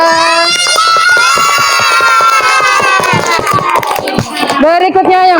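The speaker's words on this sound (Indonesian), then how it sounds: "Tepuk tangan untuk Firja." A class of children clapping and cheering for a classmate in a school lesson, loud and close, with shrill shouting voices and rapid claps together, then an adult voice rising at the end.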